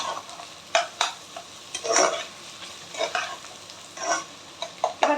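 Chicken fried rice with pakora-style fried chicken being tossed and stirred in a hot pan, a string of sharp scraping clatters and bursts of sizzle in an uneven rhythm, close and clear with no talk.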